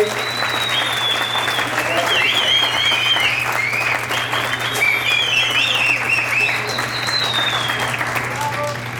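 Sustained applause from a conference audience, dense and steady clapping heard throughout, with faint voices and chirpy high tones mixed in.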